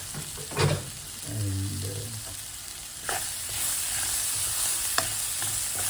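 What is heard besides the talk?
spices tempering and being stirred in hot oil for curry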